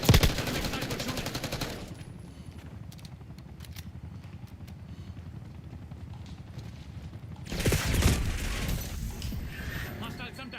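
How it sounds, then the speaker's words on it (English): Call of Duty Black Ops 6 match with bursts of loud gunfire at the start and again near the end, separated by quieter rhythmic clatter and game noise, with voices speaking during the clip. "Enemy sniper shooting."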